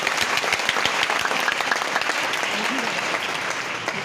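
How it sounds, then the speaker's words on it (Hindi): A room full of trainees at a company motivational training session bursts into loud, dense applause that holds steady for several seconds, close and continuous. "चलिए आप सभी के लिए एक बार जोरदार तालियां।"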